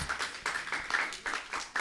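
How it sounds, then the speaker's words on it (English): Audience applause in a hall after a youth discussion on mental health support, rising and falling in several quick surges of clapping with no voices over it. "So give a round of applause for you guys."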